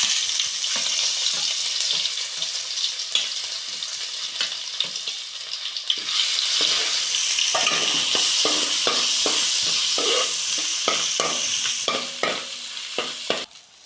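Crushed ginger and garlic frying in hot butter with mustard seeds in a pan for butter chicken, a loud continuous sizzle broken by frequent sharp scraping clinks of a spoon stirring, growing busier toward the end.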